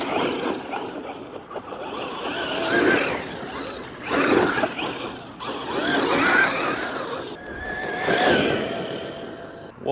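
An RC car on belted tires runs at full throttle, its high-pitched electric motor whine surging and fading in repeated bursts, with gritty mechanical chatter from the drivetrain and tires, and no voices.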